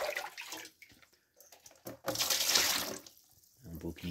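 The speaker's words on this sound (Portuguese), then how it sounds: "Pega mais uma água aqui." Tap water runs in bursts as white-winged dove meat is rinsed in a sink, a close splashing stream that stops and starts again, with a person talking between the pours.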